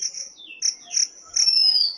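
A cartoon sparrow and crow chirp in short, bright, high tweets, several calls in quick succession, loud and close with no talking.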